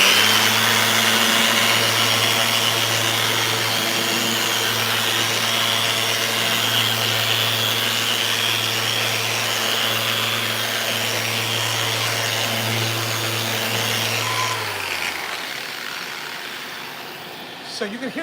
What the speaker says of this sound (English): if we put it into random orbit mode, now it'll spin. You're gonna hear it's gonna sound even a little bit different, but it just sands differently.